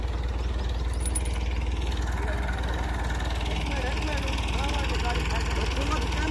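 Massey Ferguson 385 and Fiat 640 tractors stuck in mud run with a steady, loud, close engine rumble throughout, while people talk over it.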